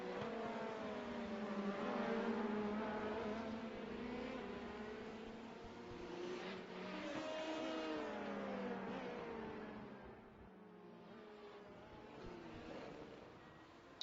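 Audi LMP1 prototypes racing at Twin Ring Motegi in a racing video game, with a steady layered engine drone and rising and falling revs that hold at a constant level before easing slightly toward the end.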